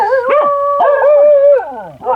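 A pet dog howls loudly and close by in long, wavering drawn-out tones with short breaks, rising and falling in pitch across the whole stretch.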